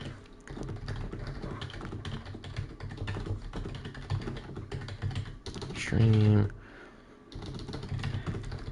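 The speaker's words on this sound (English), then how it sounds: "so if you heard some typing in the background," Steady clatter of computer keyboard typing nearby, with a brief burst of voice partway through.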